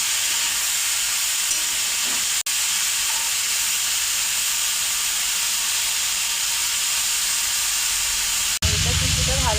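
Potatoes fry in oil for chowmein, giving a continuous loud sizzling hiss for about nine seconds, with two brief cuts and a voice coming in at the very end.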